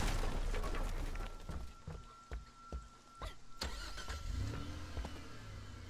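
A car engine cranks and catches in a video game, giving a few sharp mechanical clatters and knocks before settling into a mid-pitched running hum. The sound is moderately close and heard alone.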